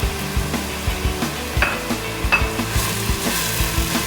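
Refrito base for Ecuadorian fanesca sautéing in a pan with oregano, a steady close sizzle broken by repeated clinks and scrapes of a spoon stirring against the pot.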